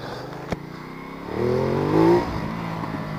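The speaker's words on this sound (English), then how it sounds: "We're going to do some riding on this torquey beast of a bike, the Ducati Multistrada." Ducati Multistrada motorcycle pulling away on a road ride, with a sharp click followed by a rising engine note that revs up and eases off, heard close up.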